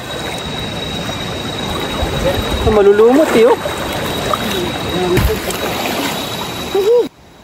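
A strong river current rushes steadily throughout during a long river crossing on a mountain trek, with splashing water beneath a person speaking partway through.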